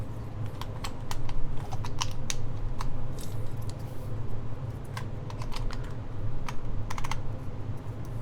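Fast, steady typing on a Blue Ridge mechanical keyboard, a close stream of crisp clacks during a typing test with short bursts and pauses, heard without speech.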